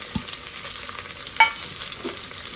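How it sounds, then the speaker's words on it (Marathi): Onion, tomato, carrot, green chillies and drumsticks sauté in a pan for a Marathi drumstick rice dish, giving a soft continuous sizzle with a few brief stirring knocks, close up and without speech. "मिनिटभर छान असं परतून घ्यायचं आपल्याला"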